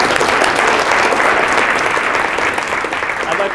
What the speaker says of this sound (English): So please, one more round of applause.